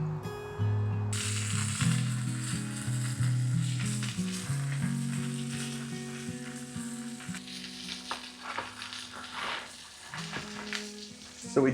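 Lamb chops sizzle and fry in a pan, a steady bright crackle with scraping and clinking from moving them around and a few sharper pops near the end, with no talking.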